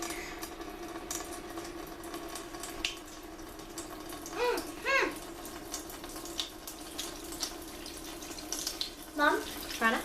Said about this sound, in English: So I'm just filling up some more water.